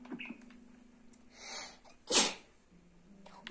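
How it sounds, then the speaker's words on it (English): A single sharp sneeze bursts out close and loud after a brief inhaled buildup, set against a quiet background hum. "I accidentally sneezed"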